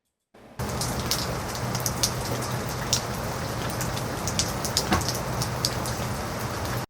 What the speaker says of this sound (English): the rain hitting everything in the environment. Say leaves of trees and ground and stuff